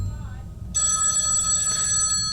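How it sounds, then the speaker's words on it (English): A telephone bell rings continuously in a stage play, a loud sustained electronic ring starting abruptly and holding steady to the end, with a faint voice before it begins. "Oh, who's trying to call me?"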